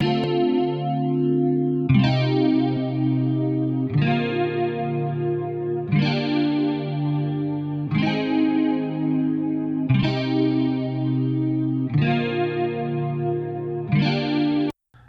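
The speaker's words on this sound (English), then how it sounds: "The reverse sweep sound gorgeous, so lush, so wide." A lush, wide reverse sweep modulation effect on sustained chords sweeps through repeated phrases every couple of seconds, loud and swirling, then cuts off abruptly at the end.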